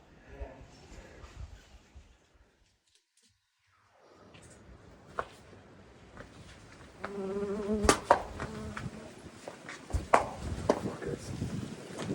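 Wasps buzzing around close by in the hills of the Algarve, with scattered thumps and knocks and a voice talking intermittently over the droning.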